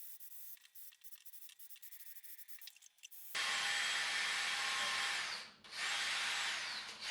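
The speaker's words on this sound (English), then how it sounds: "Same principle applies with this finer grit sandpaper. Go smooth and slow over the headlights" Fine-grit sandpaper on a rotary tool works a hazy headlight lens, a loud close rushing whine that starts suddenly after quieter rubbing and briefly dips once before continuing steadily.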